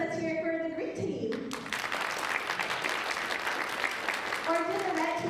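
Audience applause for the green team at a council work session, a full burst of clapping that runs several seconds between stretches of speech at the start and end.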